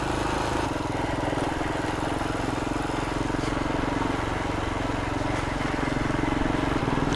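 Royal Enfield Himalayan 411 motorcycle engine running steadily while riding, a constant loud drone with a low throbbing beat and no breaks.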